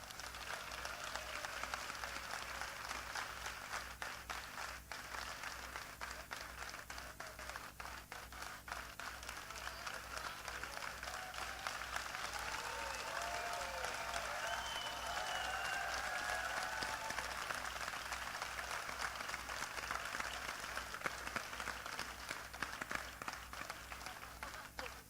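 Faint, distant audience applause welcoming actor Denis Lavant to a film festival talk, a soft continuous patter of clapping that holds steady for over twenty seconds.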